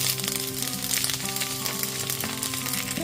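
Two large onions frying in oil with chopped garlic in a pan for chilli paneer, a steady close sizzle with faint tonal hum running underneath, no talk.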